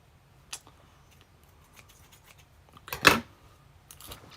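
Scissors snip through plastic canvas during a needlepoint craft session, a single crisp cut standing out near the middle with a few faint clicks around it in an otherwise quiet room.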